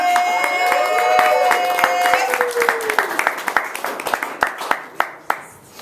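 An improv show audience claps and cheers, dense applause under a sustained whistle or tone at first, then thinning into scattered individual claps that fade out.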